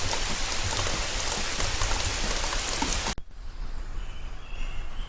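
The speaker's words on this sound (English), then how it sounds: "it's raining pretty hard" Heavy rain pours steadily onto a garden with a dense, loud hiss, then cuts off abruptly and leaves a softer, closer patter of dripping water and light rain.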